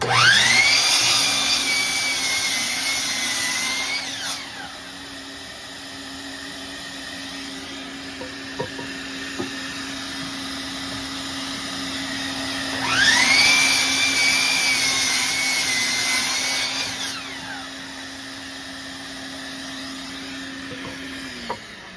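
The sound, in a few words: power saw cutting rough lumber boards to length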